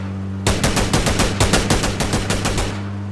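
Rapid automatic gunfire in PUBG, a steady burst of about a dozen close, loud shots over a low engine hum, with no talk.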